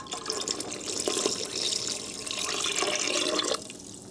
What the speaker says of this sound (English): I'm going to add 4 more cups of water